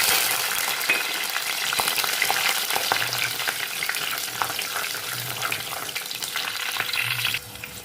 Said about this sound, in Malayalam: മൺചട്ടിയിലെ ചൂടായ വെളിച്ചെണ്ണയിലേക്ക് ഉലുവ ഇട്ട് കൊടുക്കാം.